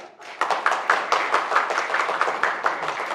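A crowd at a national quality-circle contest breaks into applause for children being introduced, the clapping starting abruptly and continuing as a dense, even patter of many hands at moderate volume.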